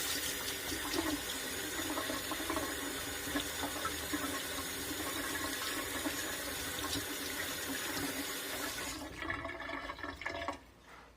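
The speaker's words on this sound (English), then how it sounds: "Hot water." Hot water pours steadily from a tap in a workshop during hide glue making, a close, constant gushing hiss that cuts off near the end, with no one speaking.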